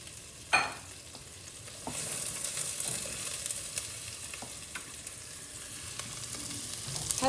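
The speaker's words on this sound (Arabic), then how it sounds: "هلا بتسيخ الزبدة" Butter melting in a hot pan gives a steady, close hiss and sizzle that grows louder after a sharp clack near the start, continuing alone without talk.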